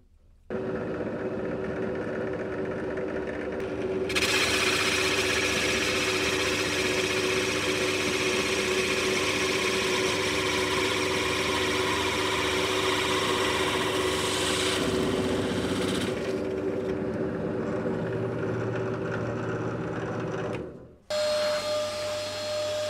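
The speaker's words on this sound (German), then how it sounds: "Dann wollen wir mal das Loch bohren." A 30 mm Forstner bit bores a hole in wood, its drill motor whirring steadily and close at hand, with a harsher cutting rasp in the middle stretch before the drill stops briefly and restarts.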